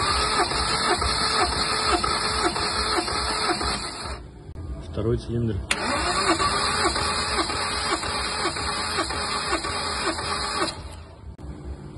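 A 2011 Hyundai Sonata 2.0-litre engine cranks during a compression test in a steady, rhythmic chug, briefly pausing midway before resuming, with someone speaking a few words over it.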